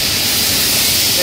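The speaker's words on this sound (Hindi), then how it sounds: "देखिए आप, ये टैंकी झरने लगा है नीचे" Liquid pours steadily from an overhead tank in a balloon factory, a continuous close rushing splash like a small waterfall, loud and unbroken, with faint machinery hum and possible voice underneath.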